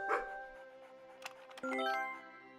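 A dog barks a couple of times in the video game Bilkins' Folly, short close yelps standing out over steady game music.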